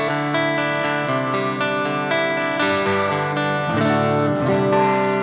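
An electric guitar plays sustained chords with a shimmering chorus effect, the notes ringing together in a thick, wavering wash, with no one talking.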